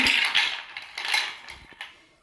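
A few ice cubes clink and rattle into two glasses of juice, bright and close, in several quick bursts over about two seconds that fade out, with no talk.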